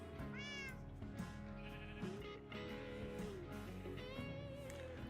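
Several Minecraft cats meow in the video game, giving a string of high, wavering cries at irregular intervals over a constant layer of background game sound.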